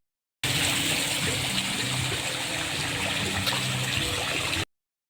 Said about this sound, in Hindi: ये तो देख लो वाटरफॉल हो